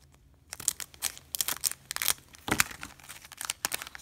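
A Pokémon card booster pack torn open by hand, giving a run of sharp, crinkly foil rips and crackles in several close bursts over a quiet background, with no talking.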